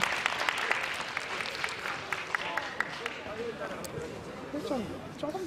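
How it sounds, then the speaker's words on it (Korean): Audience at a boxing match applauding a winning fighter, steady clapping from a crowd filling the hall while an announcer talks over it. "축하의 박수 부탁드리겠습니다"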